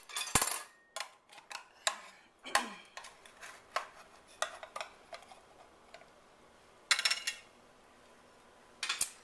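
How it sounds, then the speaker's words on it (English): Knife cutting a piece of cheesy Mexican cornbread in its pan, a scattered series of sharp clicks and taps of metal against the pan, faint and irregular with quiet gaps. "what I'm going to do is cut a piece and show you what it looks like on a plate"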